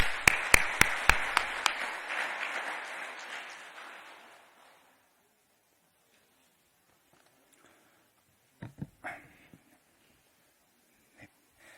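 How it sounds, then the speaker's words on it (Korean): An audience applauds to welcome a speaker to the stage, a burst of sharp claps that swells and fades away over a few seconds, followed by silence and a few faint scattered knocks. "큰 박수로 맞이해 주시기 바랍니다"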